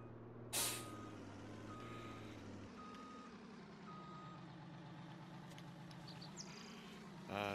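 Truck air brakes hiss loudly near the start and again at the end in Farming Simulator 19, over a steady engine hum, with reversing beeps in the mix.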